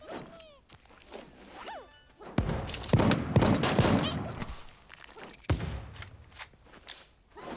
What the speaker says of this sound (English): Oh lord, someone's got a minigun.